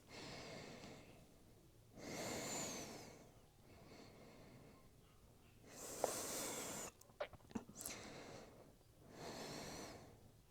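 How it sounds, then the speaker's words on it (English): Slow, deep breaths during a yoga shoulder stretch, with three long audible inhale-exhale cycles, fairly close and soft, plus a few small rustles partway through. "Breathing here for 3 breaths."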